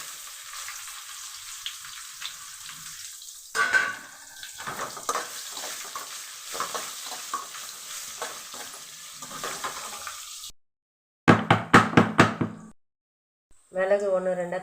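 Onions fry in a pan for a Rama Rama beans poriyal, with a soft crackling sizzle and stirring scrapes broken by short pauses, while someone talks over it.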